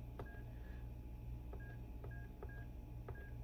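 Keypad tones from a Yealink desk phone: about five short, evenly spaced beeps over a soft steady hum, quiet and close with no talking.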